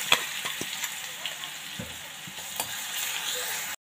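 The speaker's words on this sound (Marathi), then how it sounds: "आता आपण हा वाटलेला जो मसाला आहे तो घालूया।" Ground masala paste stirred and frying in a hot pan with carom seeds for vada pav, a steady sizzle with scattered stirring scrapes and clicks, close and moderately loud, no talking.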